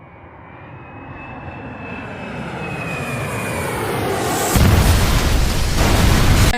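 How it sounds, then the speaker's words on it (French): A jet airliner comes in to land, its engine roar swelling steadily louder with a thin whine on top, then turns into a broad rushing rumble near the end, close and loud with no voices. "Il y a des avions qui sont en train de se poser"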